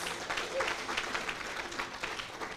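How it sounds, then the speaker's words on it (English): An audience at the Equality Ohio 2024 Advocates & Allies event claps in steady, sustained applause, a dense crowd sound with no pauses. "Please, let's give another round of applause."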